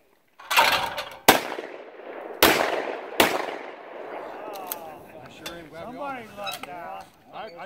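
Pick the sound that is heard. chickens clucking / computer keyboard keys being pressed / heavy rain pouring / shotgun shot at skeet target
shotgun shot at skeet target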